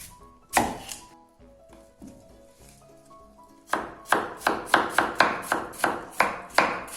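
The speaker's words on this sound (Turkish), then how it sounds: "şu şekilde doğruyoruz" A knife makes a few scattered thuds on a board while cutting beetroot, then a quick regular run of about a dozen sharp chops, close and clear, with no voices.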